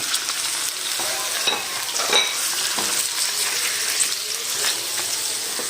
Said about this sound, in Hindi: थोड़ा सा चिकन को फ्राई करेंगे।